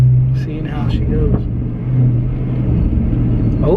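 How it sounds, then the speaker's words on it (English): A modified Jeep SRT with an aftermarket exhaust rumbles loud and close in a steady, deep drone, with voices talking over it. "You hear that exhaust?"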